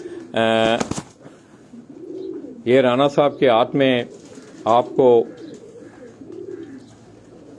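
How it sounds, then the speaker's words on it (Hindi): Soft, low cooing from a Kamgar breed pigeon held in a handler's hands on a Karachi rooftop, rising in gentle swells between stretches of someone talking close by. "कमगर नस्ल का ये कबूतर"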